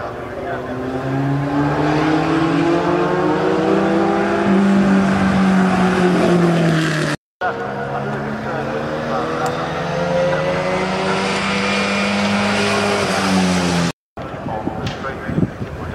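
A car at the Cholmondeley Pageant of Power revs hard under acceleration, its engine pitch rising and falling through gear changes and braking, loud and close, with brief cuts between passes.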